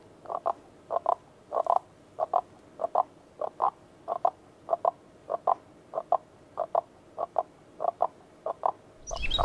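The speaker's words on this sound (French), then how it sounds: "Il y a des grenouilles différentes." Frogs croak in a steady rhythmic series of short pulses, about two per second, clear and fairly close against a quiet background, with no talking.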